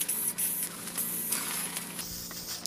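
Dirty Down rust aerosol sprayed onto a lead Warhammer 40k miniature, a steady close hiss lasting a few seconds with brief breaks between bursts.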